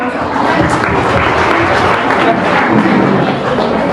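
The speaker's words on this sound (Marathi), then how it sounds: "सगळ्यांनी जोरदार टाळ्या वाजवा" Applause from an audience of women at a Navratri festival sari lucky-draw event in Rasne Nagar, a dense steady clatter of many hands lasting throughout, with voices mixed in.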